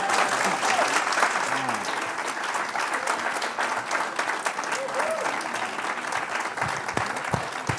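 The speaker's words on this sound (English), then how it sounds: "Can we give them all a round of applause?" An audience at a Dallas district attorney candidates forum claps steadily for several seconds, dense applause filling the room with a few faint voices mixed in.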